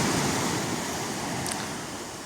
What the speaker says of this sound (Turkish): Dalgaların sessizliği, dalgaların sahili dövercesine